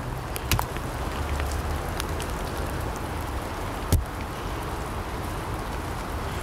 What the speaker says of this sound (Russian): Тут снег тает, дождь идет. Мокро в парке.